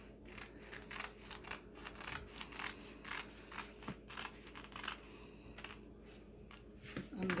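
Scissors cut fabric for the neckline of a simple kimono dress in a run of quick, close snips and crisp rustles of cloth. The cutting is quiet and repeats irregularly, with a slightly louder handling noise at the very end.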